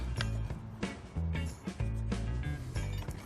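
A Rain Bird Maxi-Paw 2045A impact sprinkler mechanism turned gently by hand gives off a run of close mechanical clicks and ratcheting creaks in short bursts.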